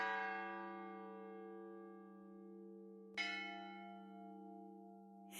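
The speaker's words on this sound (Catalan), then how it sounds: "Les campanes de Santa Caterina tocaven a morts." Church bells of Santa Caterina tolling a death knell, one deep, ringing strike that decays slowly before a second loud strike lands about three seconds later, sustaining its hum to the end.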